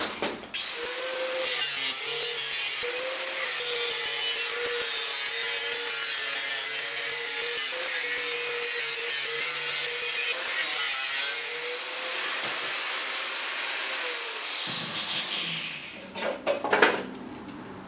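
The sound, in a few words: sawing off a motorcycle fender piece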